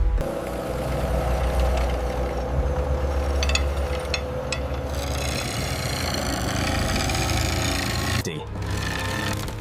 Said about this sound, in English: As the steel makes contact with the spinning wood, a violent, percussive rhythm fills the factory.